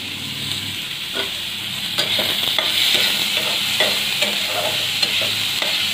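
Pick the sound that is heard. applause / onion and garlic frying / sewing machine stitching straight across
onion and garlic frying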